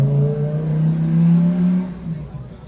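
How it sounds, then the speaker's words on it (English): A Lamborghini sports car engine revs loudly and steadily, its tone building then easing as the car pulls away and fades, with a faint voice in the background. "That was my Lamborghini going out."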